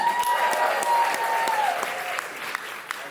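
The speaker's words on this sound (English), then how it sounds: "And please make some noise if you want to hear more from Rachel Green." Audience at a New York comedy show applauding and cheering for a one-liner comedian, a dense, steady wash of clapping with a sustained whistle or shout near the start, close and loud throughout.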